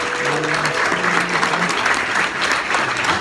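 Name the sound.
applause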